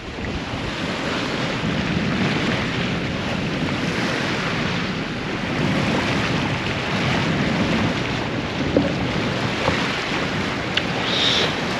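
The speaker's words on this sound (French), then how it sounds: "Voilà ce qu'on appelle une mer d'huile." Calm, oil-flat sea around a sailing boat, gentle waves washing and lapping steadily beneath constant wind rush on the microphone, with no voices.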